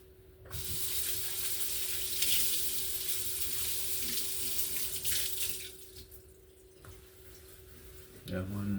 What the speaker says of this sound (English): I want to make sure I rinse it properly, you know. Get rid of the soap completely